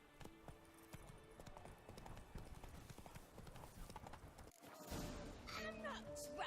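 Roach, Geralt's horse in The Witcher 3: Blood and Wine, gallops with a steady, rapid clip-clop of hooves that grows louder and busier toward the end, with faint game voices in the background.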